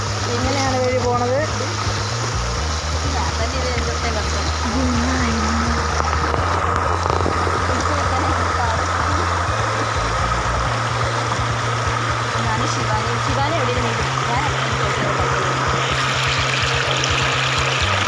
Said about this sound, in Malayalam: ഇവിടെയൊക്കെ നല്ല ഒഴുക്ക് അടിയൊഴുക്കുവാണ് കേട്ടോ.